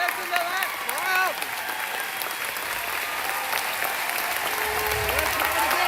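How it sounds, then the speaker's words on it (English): Large crowd at a political rally in Lenore, West Virginia, applauding and cheering in a broad continuous roar of clapping that holds steady, with an announcer's voice speaking over it near the start. "Listen to that crowd."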